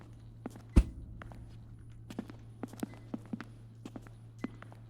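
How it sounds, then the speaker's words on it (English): Muffled footsteps behind a locked door in the video game Becrowned: a loud thud, then a string of soft, irregular steps under a steady low hum. "I can hear someone's footsteps on the other side of the door"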